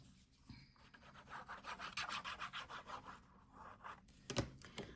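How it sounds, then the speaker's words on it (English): Bone folder rubbed over a glued paper card layer on a handmade sympathy card, a close, dry rhythmic scraping of repeated quick strokes with a sharper knock near the end. "now I'm just going to go over that with my bone folder so that it's glued down nicely"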